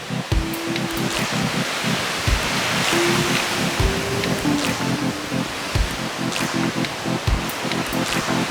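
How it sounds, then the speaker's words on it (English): Broad steady roar of a big waterfall beside a coastal walking trail near a beach, constant rushing water close by with faint tonal hums over it and no speech. "It's a big waterfall."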